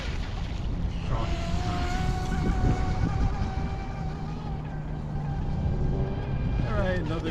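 The electric motor of a DEERC Challenger 2104 RC boat whines on open water, its pitch gliding up and down through a turn over constant wind and water noise.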